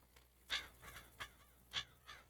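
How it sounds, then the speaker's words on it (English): Crows cawing in the Farming Simulator 22 video game on the Spruce Hills map, several separate harsh caws spaced irregularly at a moderate distance, with quiet background between calls. "Crows flying."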